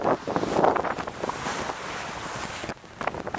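Steady force 4 wind rushing and buffeting across the microphone on the Baltic coast between Hel and Łeba, with hissy gusts that dip briefly near the end before picking up again.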